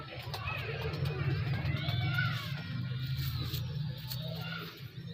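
Pigeons of the Salaray Teddy breed coo softly in low, rolling throaty phrases that repeat close by, with someone talking over them.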